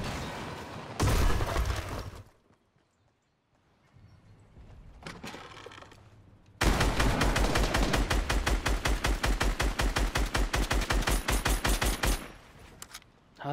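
Fortnite gunfire: a short loud burst, a quieter lull with distant rumble, then a long sustained volley of rapid, evenly spaced shots close up before it tapers off.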